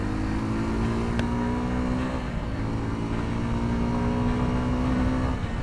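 Engine of a high-displacement motorbike (over 165 cc) accelerating along a quiet open road in the afternoon, a steady loud drone with a rising pitch and continuous wind and road roar, no talking.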